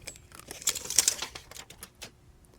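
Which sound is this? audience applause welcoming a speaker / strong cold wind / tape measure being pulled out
tape measure being pulled out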